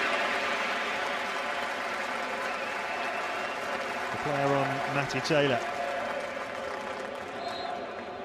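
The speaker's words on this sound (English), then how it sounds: "he gets a wonderful round of applause" Home West Ham fans at Upton Park applaud Joe Cole back in a claret shirt, steady distant crowd clapping and murmur running throughout beneath a commentator's voice.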